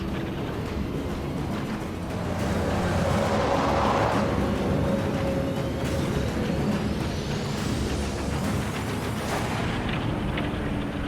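A 100-tonne mining haul truck on a rough dirt road, with a water truck approaching, produces a loud continuous engine roar and rumble that swells slightly midway and stays dense and close throughout.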